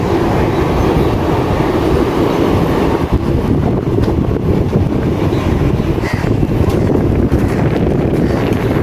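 A train rumbles steadily at Khanewal Junction, a close, continuous low roar of rolling rail wagons with gusting wind buffeting the microphone throughout.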